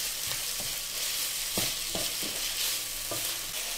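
Bacon lardons frying with onions in a cocotte, a steady close sizzle with several soft scraping stirs of a utensil against the pot, no voices.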